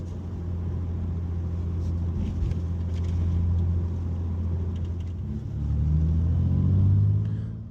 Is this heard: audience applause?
no